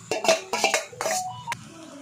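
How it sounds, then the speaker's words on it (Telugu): Basmati rice tossed and stirred in a pan for restaurant-style veg fried rice: a run of close metallic scrapes and clinks from a spoon against the pan, irregular and moderately loud, then a sharp tap and quiet. "రైస్ అంతా ఇలా వేసేసుకొని బాగా మిక్స్ చేసేసుకున్నాము"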